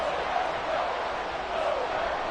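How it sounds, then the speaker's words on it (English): Stadium crowd noise at Lambeau Field in the video game Madden 24 during an NFC Championship matchup, a steady, dense roar holding level throughout with no breaks. "Crowd getting loud here at Lambeau."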